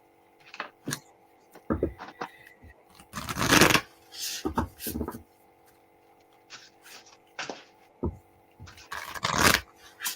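Tarot cards shuffled by hand during a live reading, in several short riffling bursts separated by pauses, close and fairly crisp, with no talking.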